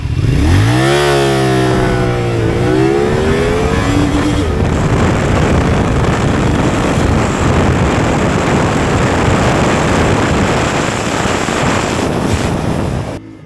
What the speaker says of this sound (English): So this motorcycle on paper has to be very good for measuring 0 to 100 kilometers per hour acceleration